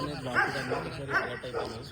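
Dogs bark and yip at a dog farm kennel housing breeds like Rottweilers and Huskies, a few barks rising over steady voices of people talking nearby.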